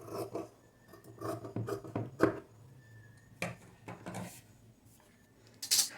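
Scissors cut through blouse fabric for a princess-cut blouse, giving a series of soft, close snips and rustles at an uneven rhythm.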